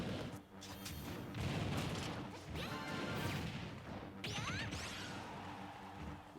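Fighting hits, smashes and whooshes from a Super Smash Bros match with Bowser and Zelda battling, a dense, loud run of impacts and crashes with swooping sweeps, continuous with no pauses.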